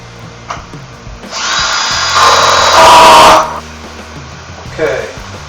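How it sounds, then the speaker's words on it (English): A power drill bores a hole near the bottom of the flap on a Bissell upright vacuum, whirring in a short rising burst of about two seconds, loud and close, between quieter handling noises. "I'm going to drill a hole down in the bottom of this flap"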